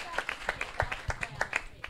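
Sparse, distinct hand claps from a few audience members at a leadership summit event, quiet and irregular, roughly a dozen sharp claps over a couple of seconds.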